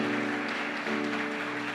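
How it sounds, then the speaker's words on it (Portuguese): A church congregation applauds: steady, moderately soft clapping runs throughout, over a sustained musical tone. "Vamos aplaudir a Jesus"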